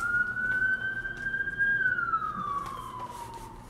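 An ambulance siren wails steadily and then drops in pitch as it passes by on the street, loud and close with traffic rumble underneath.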